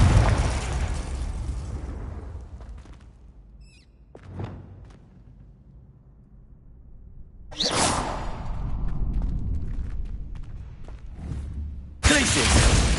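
Blasting curse spell in Hogwarts Legacy, a loud fiery burst with a whooshing rush that flares up, fades, then erupts again near the end, with quieter swishes and a voice in between.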